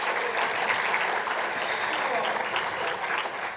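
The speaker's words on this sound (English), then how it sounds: "Round of applause on that." Audience applause at an International Women's Day breakfast in Greater Boston, a dense, sustained wash of many hands clapping at steady volume from start to finish, with a voice faintly underneath.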